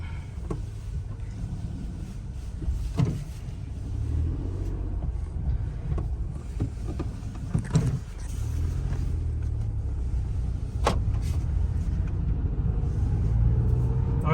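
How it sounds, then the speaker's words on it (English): A car engine hums steadily with low road rumble, driving continuously without pause, on a test drive with a still-bent steering wheel after a failed wheel alignment. "We're gonna drop the car, go for a test drive"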